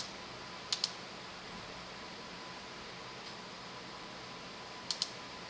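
Two pairs of sharp computer mouse clicks, one early and one near the end, quiet against a steady fan-like hum.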